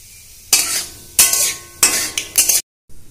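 Black cumin seeds hit hot oil in a pan while Bata fish with mustard and posto paste is being made, giving bursts of sizzling and spattering with a few clinks of a spoon, then a brief silence.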